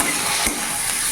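Tomato goes into lightly fried onions in a hot pan, giving a steady, close frying hiss with a brief stir in the middle and no speech over it.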